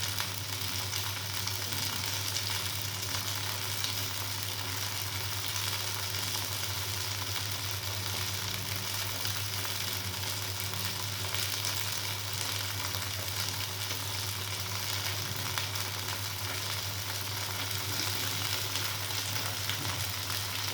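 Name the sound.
onions sautéing in oil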